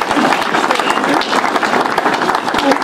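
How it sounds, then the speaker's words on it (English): A church congregation claps together in praise during a prayer service, dense and continuous crowd applause with mixed voices and cheering underneath. "Clap for Jesus."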